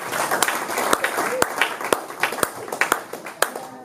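A church congregation claps in irregular sharp bursts, loud and close, mixed with voices and cheering.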